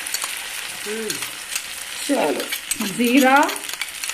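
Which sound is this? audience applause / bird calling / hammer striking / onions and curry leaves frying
onions and curry leaves frying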